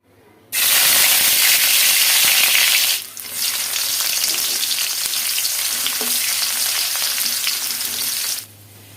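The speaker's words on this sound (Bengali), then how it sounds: "এখন পেঁয়াজ আর হচ্ছে রসুন এগুলা দিয়ে বাগার করে নিলাম।" Onion and garlic fry for tempering lentils in a sudden loud burst of sizzling that eases briefly, then resumes strongly with stirring scrapes before cutting off.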